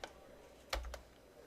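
A few quiet, isolated keystrokes on a computer keyboard as code is typed into a script editor during a lecture, with a brief cluster of clicks in an otherwise hushed room.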